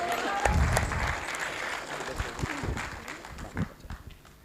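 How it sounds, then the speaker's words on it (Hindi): Applause from a theatre audience at the close of a Hindi stage play, loud at first then gradually thinning, with some crowd noise mixed in. "आपकी तालियों की जो गड़गड़ाहट है"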